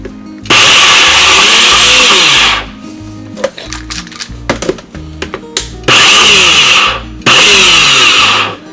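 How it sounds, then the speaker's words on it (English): A kitchen blender whirs loudly in pulsed bursts while blending dandelion pesto with olive oil, running about two seconds, pausing with clinks and knocks, then two more roaring bursts. "You can do this in a food processor or a blender"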